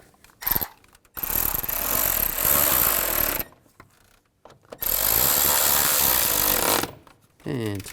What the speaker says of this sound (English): Install the 2 bolts. Right there and right here, and tighten them up.